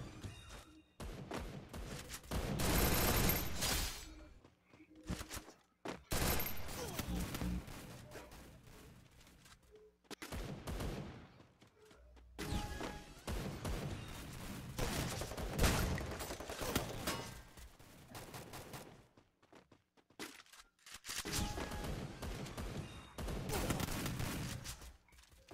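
Bursts of video-game gunfire in several loud clusters, with quieter gaps between volleys and a few thumps.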